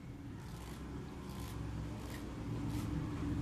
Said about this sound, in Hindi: तो अब जब हम करेंगे थ्रेडिंग तो हमारे थ्रेडिंग से आवाज आनी चाहिए।